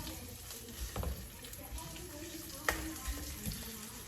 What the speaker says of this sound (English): you can see how it's browning up a little bit and it's starting to sizzle